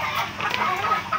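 Several hens on a gamefowl farm cluck and chatter nearby in a steady, overlapping stream of short calls, with no speech.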